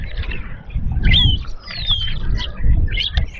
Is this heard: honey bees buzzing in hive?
no